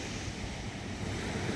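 Ocean waves wash in steadily at a beach in Nasugbu, a continuous broadband roar with wind noise on the microphone and no clear breaks between surges.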